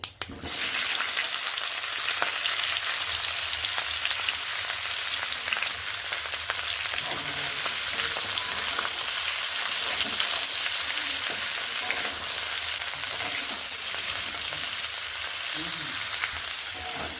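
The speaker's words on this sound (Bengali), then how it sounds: "ফোড়নগুলোকে কয়েক সেকেন্ড নেড়ে নিচ্ছি এবার বাকি সবজিগুলোকে আমি একসঙ্গে ছেড়ে দেব" Mixed vegetables and panch phoron tempering spices frying in hot oil, a loud continuous sizzle with occasional scraping stirs throughout, no voices.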